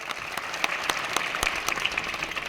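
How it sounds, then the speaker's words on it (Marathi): Crowd applause at an outdoor political rally backing an independent municipal council candidate in Chandwad: steady clapping throughout, with sharper individual claps popping out over the dense patter. "यासाठी सगळ्यांनी टाळ्या उंचावत्या"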